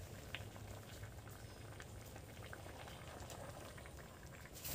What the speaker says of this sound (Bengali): এবার এই জলটা এর মধ্যে আমি দিয়ে দেবো দেখুন গরম আস্তে আস্তে